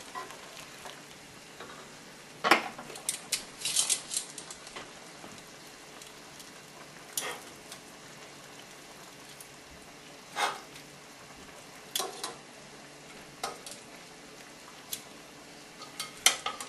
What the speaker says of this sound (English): we're going to put our meat right back in the sauce and just let it finish cooking